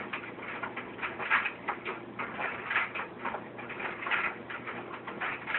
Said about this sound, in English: A bunch of birds.